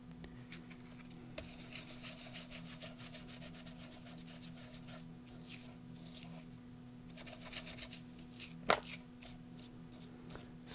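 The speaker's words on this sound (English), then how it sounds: "And I'm gonna go over it like this, rubbing it, and that will give me some fun little stringy texture." Cooled embossing powder on a journal page is rubbed by hand to raise a stringy texture, giving a faint, steady scratchy friction over a low hum, with one brief sharper scrape near the end and no voices.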